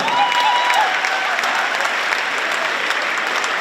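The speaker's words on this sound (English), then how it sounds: "Let's hear a round of applause for them." A crowd in a school rally gym applauds for school record holders, a steady, full-bodied roar of many hands clapping at constant loudness throughout, with a faint cheer or whistle early on.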